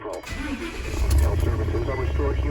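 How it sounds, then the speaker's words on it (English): A car engine cranks and fires up, then settles into a low steady idle rumble, close by, with someone talking over it. "I'm going to crank up the engine."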